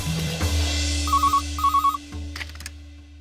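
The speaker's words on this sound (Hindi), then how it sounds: "मानसी जी, तुमने लैंडलाइन पर क्यों कॉल किया है?" A landline telephone rings in two short electronic trilling bursts over a low indoor hum, followed by brief clattering handling sounds.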